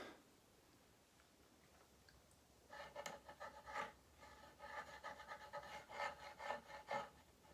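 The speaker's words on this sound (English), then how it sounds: "I'm drawing a picture of my fiancée, Annie, with a piece of charcoal I smuggled in." Charcoal scratches and rubs across paper in short irregular strokes, quiet and close, starting after a near-silent pause and continuing in bursts without any voice.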